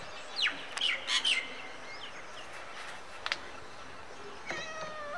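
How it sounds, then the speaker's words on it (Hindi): A cat meows several times in short, high calls, with birds chirping faintly in the background. "ये रही चेयर के नीचे बिल्ली"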